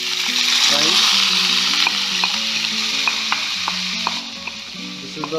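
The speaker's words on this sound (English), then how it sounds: "Now I'm gonna add" Steady frying sizzle as soaked rice is stirred with scraping strokes in a pan for Kashmiri pulao, close and continuous, with soft background tones underneath.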